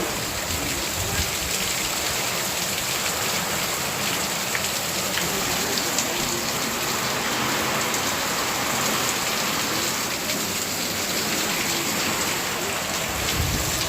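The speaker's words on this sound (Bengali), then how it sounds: "দেখো কি জোরে বৃষ্টি" Heavy rain pours down steadily for the whole stretch, a dense, loud, continuous hiss of drops drumming on surfaces nearby, with no break and no voices.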